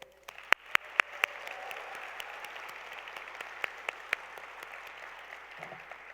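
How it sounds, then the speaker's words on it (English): Audience applause at a state leadership conference general session, thanking local chapter advisors: a broad, steady wash of clapping lasting several seconds, with a few sharp, louder individual claps standing out early and again near the end. "please join me in a huge round of applause to thank all of our local chapter advisors"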